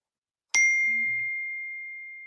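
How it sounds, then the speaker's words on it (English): A single clear notification ding from a computer or phone rings out once against near silence and fades slowly. "Sorry if you guys hear my computer and phone going off."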